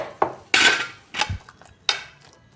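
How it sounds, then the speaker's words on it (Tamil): Chana dal and coconut filling being stirred and mashed in a pan for paruppu poli, with a few sharp utensil scrapes and clatters against the metal pan in short separate bursts, close and fairly loud. "மசித்து வச்சுருக்கிற கடலை பருப்பையும் சேர்த்து போட்டு நல்லா கட்டி இல்லாமல் ம மசித்து விட்டுக்கணும்"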